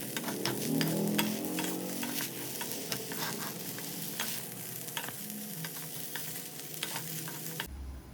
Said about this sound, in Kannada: ಹಾಗಲಕಾಯಿನ ಕಟ್ ಮಾಡಿದ್ಮೇಲೆ ಬಾಣಲೆಗೆ ಸ್ವಲ್ಪ ಎಣ್ಣೆ ಹಾಕಿ ಹುರ್ಕೊಳ್ಬೇಕು